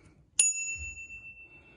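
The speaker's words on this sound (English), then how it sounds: "Bell," A single bright ding from the bell on an Ancheer 16 inch electric bike rings close by and rings out into a long, fading tone.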